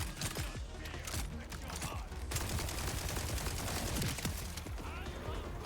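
Rapid gunfire from a Borderlands-style shooter video game, dense bursts of shots running steadily throughout at close range, with game effects mixed in and no talk over it.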